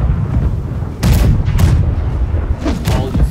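Broadside from a ship's right-side cannons in the Blackwake naval game, a few heavy booms in quick succession rolling over a dense, noisy battle background.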